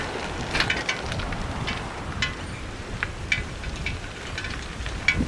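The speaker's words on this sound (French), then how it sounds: "Bon, désolé s'il y a du vent." Wind blowing across the beach at Rangiroa, a faint broadband rush buffeting the microphone with scattered crackling gusts throughout.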